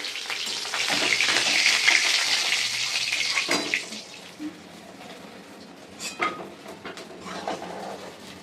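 Prawns lightly frying in mustard oil in a wok: a bright hiss of sizzling fades after a few seconds into quieter spatters, with scattered clinks of a utensil against the pan.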